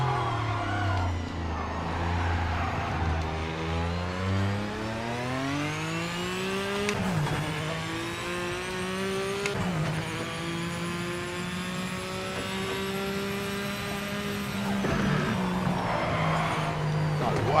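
A race car in Project Motor Racing on a qualifying lap, its engine screaming close and loud, pitch climbing through the gears with sharp shift drops, steady revving throughout and a voice talking over it.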